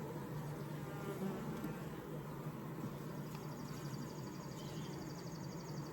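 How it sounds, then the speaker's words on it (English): Honey bees buzz steadily inside a busy 20-frame horizontal Layens hive during a June inspection, a dense continuous drone up close with no breaks and no voices. "This is a busy hive."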